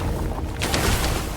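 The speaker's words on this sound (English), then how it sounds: "And she can summon pillars of ice in a line that explode from the ground." Ice pillars burst from the ground in a line during General Elena the Hollow's boss fight in V Rising, a loud crashing, crackling eruption that swells after a low rumbling lead-in and fills the clip.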